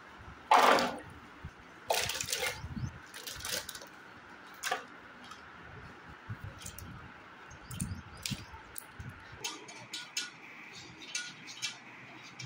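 Vegetables are washed in water for a large cooking batch, with splashing, dripping and clinking of utensils coming in short, irregular bursts at moderate volume and no talking.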